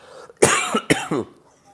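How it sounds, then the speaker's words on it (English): Two harsh, close coughs come in quick succession from one person, each a loud burst with a raspy tail, with near silence before and after. "Sick of this cough."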